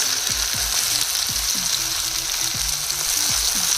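Tomato and soaked tamarind fry in hot oil while making fenugreek leaf chutney, giving a steady close sizzle with occasional stirring scrapes and knocks of a utensil against the pan.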